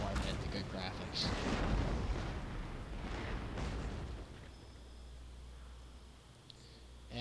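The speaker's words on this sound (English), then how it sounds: "we can just enjoy the naval bombardment, the good graphics" Naval bombardment in the Total War: Shogun 2 Fall of the Samurai strategy game: a fairly quiet, continuous rumble of distant cannon booms and blasts that thins out toward the end.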